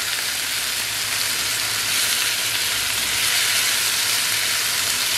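Potatoes frying in a pan over low heat, seasoned with a little soy sauce, give off a steady, even sizzle that holds at a constant level throughout with no talking.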